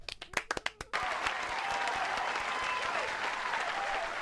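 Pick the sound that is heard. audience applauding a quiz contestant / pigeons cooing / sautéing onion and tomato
audience applauding a quiz contestant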